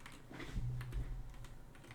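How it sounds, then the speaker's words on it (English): Someone types on a computer keyboard with one finger, producing scattered, irregular key taps at close range. A low murmur sits underneath throughout. "I'm typing with one finger."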